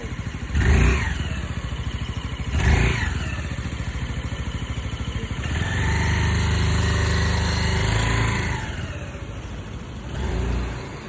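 A Lambretta G350 scooter on a test ride gives off a buzzing engine note that swells and surges through several throttle pulls, loud and close over a steady road hum, with no voices.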